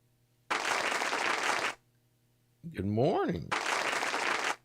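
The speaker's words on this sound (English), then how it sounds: "Got some applause machine. It's a sound effect I got on a little soundboard I'm playing with" A soundboard plays a canned applause effect during a live stream, in two loud bursts of dense clapping with a man's spoken greeting in the gap between them.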